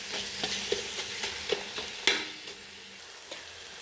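Masala being stirred in a pan while cooking duck curry, a spoon scraping and clacking in a run of light, irregular strokes over a soft background sizzle, close and alone.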